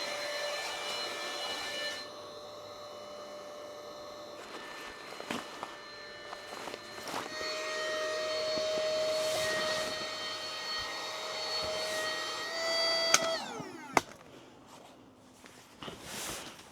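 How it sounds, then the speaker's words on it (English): Built-in electric pump inflating a Commouds queen 18-inch camping air mattress, a steady whirring drone that runs continuously for many seconds, rising slightly in pitch as the mattress fills, with a few bumps and clicks near the end. "it takes a few minutes to air up with that built-in pump"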